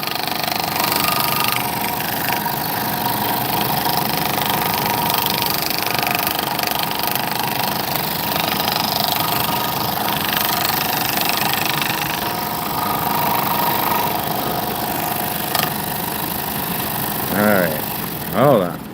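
A scroll saw cuts wooden word cutouts with a steady, buzzing motor drone that runs throughout, while someone talks over it.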